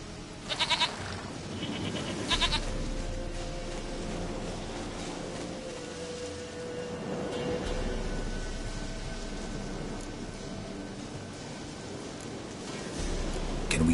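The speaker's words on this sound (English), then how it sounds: "Goat of mine, dearest, sweetest goat." A goat in the video game The Witcher 3 bleats twice near the start, short nasal cries over steady ambient game noise, with a faint further bleat later.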